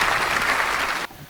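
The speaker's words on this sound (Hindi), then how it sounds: "एक बार जोरदार तालियां बजा दीजिए भैया।" Loud, dense applause from an audience at a Hindi kavi sammelan poetry recital, a steady burst of clapping that cuts off abruptly after about a second.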